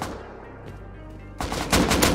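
AK rifle fire in the Rust video game, a quiet lull that breaks into bursts of rapid, loud automatic shots close by, with no speech.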